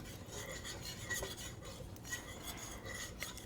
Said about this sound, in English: gradually add the rice flour and stir it constantly until you have a smooth paste